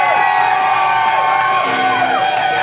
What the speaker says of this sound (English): put your hands together and make some noise for young Brittany